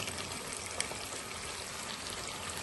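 Chicken frying in a pan with garlic-ginger paste, a steady, dense sizzle and hiss that stays even and close throughout with no talking.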